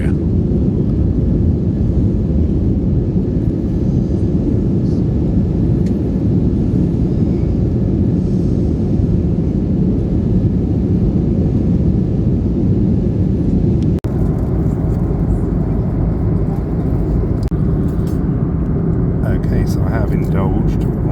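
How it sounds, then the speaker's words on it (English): Steady, loud low-pitched roar of a passenger airplane cabin in flight to Vienna, Austria, a constant engine drone that shifts slightly in tone partway through. "We are airborne, ladies and gents"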